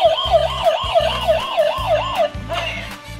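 A toy ambulance siren wails in a fast, repeating electronic up-and-down pattern, loud and close, over a buzzy mechanical hum.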